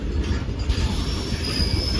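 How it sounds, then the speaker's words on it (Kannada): A goods train passes close by on the tracks, giving a continuous heavy rumble with a faint high wheel squeal running through the whole stretch. "ಮುಂದೆ ಗೂಡ್ಸ್ ಹೋಗ್ತೈತೆ"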